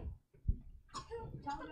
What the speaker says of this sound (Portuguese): A tosse, a tosse.